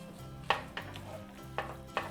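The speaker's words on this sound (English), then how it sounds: "I'm just gonna try to get this, the bacon and onions stirred in with the cabbage" Bacon and onions being stirred into cabbage in a pan, with a soft frying sizzle underneath and four sharp scraping clacks of the utensil against the pan at irregular intervals.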